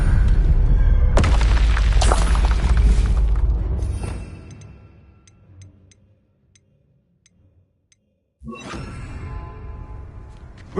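The Expelliarmus spell from a Hogwarts game goes off with a loud booming burst and whoosh that fades into ticking near-silence, followed by another burst of sound.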